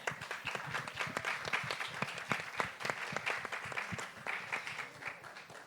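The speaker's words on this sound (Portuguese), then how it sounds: "Palmas para ela." An audience at a film festival debate breaks into steady applause, dense clapping from many hands sustained throughout at moderate loudness.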